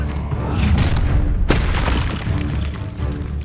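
An Incendio fire spell goes off during a Hogwarts Legacy battle, a sharp, loud burst midway amid a dense rumble of combat effects.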